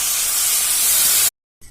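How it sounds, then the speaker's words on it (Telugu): Tamarind juice poured into a hot pan of fried pieces for Telugu kanda pulusu gives a loud, steady sizzling hiss that stops abruptly, followed by a brief quieter rustle. "ఇప్పుడు చింతపండు జ్యూస్ వేసుకుందాము."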